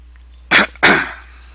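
Two sharp human coughs close to the microphone, a short pause between them, in a quiet room during a video-game level editing session.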